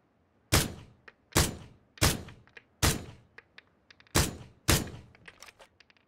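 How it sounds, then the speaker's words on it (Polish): Gunfire in PUBG: six loud, sharp single shots at roughly even spacing, each with a ringing decay, interleaved with fainter clicks and small taps between them, close and with no talk. "Za szybko strzelam."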